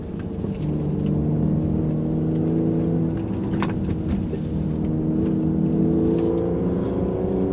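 A Mercedes-Benz GLC 43 AMG Coupe climbs a hill, its engine droning loudly and steadily with layered whirring tones and road rumble heard from inside the cabin.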